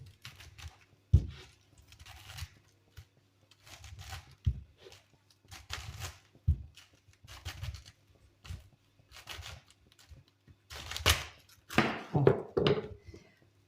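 A knife chops through cabbage on a board with irregular thunking cuts and crunches, close and fairly quiet, with no talking.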